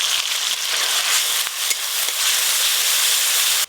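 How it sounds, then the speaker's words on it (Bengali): Spice paste with turmeric powder, chopped tomato and salt fries in mustard oil, a steady loud hiss and sizzle that holds close and constant before stopping abruptly at the end. "প্রথমে কিন্তু মশলাটা বেশ ভালো করে কষে নিতে হবে।"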